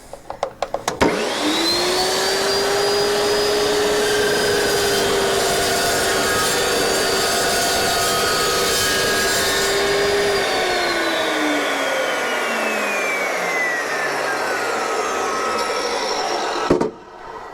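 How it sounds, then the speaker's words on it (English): A carbide-tipped metal cutting blade cuts through a metal fender, a loud continuous whining grind lasting about fifteen seconds with a steady howling pitch that then drops away as the blade spins down, close and without talk. "It's a carbide tip metal cutting blade, and I mean, this thing is the berries."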